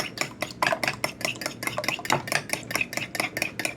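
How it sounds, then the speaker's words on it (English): Eggs being whisked in a bowl for a spicy omelet, a fast steady rhythm of utensil clicks and taps against the bowl, close and clear with no talking. "All right, let's get these eggs mixed up."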